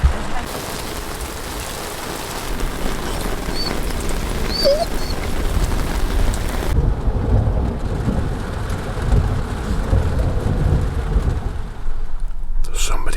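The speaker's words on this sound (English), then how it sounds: "We got our storm and Jack is not liking it." A thunderstorm with steady rain drums on a camper van parked among the fells near Helvellyn, a dense continuous hiss over a low rumbling undertone that stays loud throughout.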